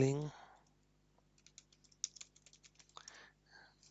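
Light typing on a computer keyboard while entering billing roles into accounting software, a scattered run of soft clicking keystrokes, close and quiet, following a brief bit of speech.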